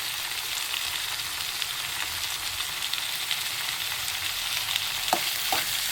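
Salted onions frying in a pan, a continuous even sizzle close by, with two quick scraping stirs toward the end.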